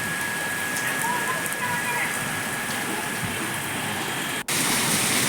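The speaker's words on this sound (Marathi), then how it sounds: "छान वाटतं अगदी पाऊस पडतो" Steady broadband hiss of summer rain falling, with wind gusting through it, continuous and fairly loud, with a brief dropout near the end before the wash resumes.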